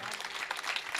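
A short burst of dense audience clapping at a Marathi kirtan, loud and close, filling the moment without any talk.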